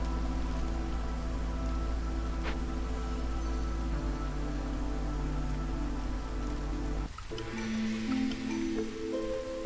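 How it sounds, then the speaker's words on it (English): A soft, steady drizzle of rain patters on the ground in the city-building game Against the Storm, a continuous ambient bed with a low drone that shifts near the end, with no voices. "And we're back to the drizzle."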